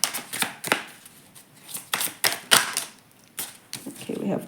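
Tarot cards being shuffled by hand, giving a series of crisp, papery riffles and slaps in irregular bursts, close and moderately loud, with a low murmur between the bursts.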